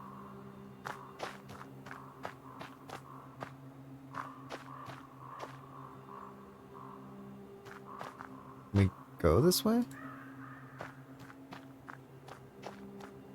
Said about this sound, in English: I hear the footsteps stomping way over there.